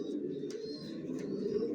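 Johnson line racing pigeons coo steadily in a loft, a low continuous murmur of several birds with faint chirps above, close and unbroken throughout.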